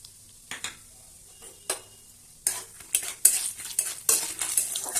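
Peanuts fry in hot oil in a wok: quiet at first, then a spoon scrapes and stirs in quick irregular strokes over a crackling sizzle that grows busier and louder toward the end, close by.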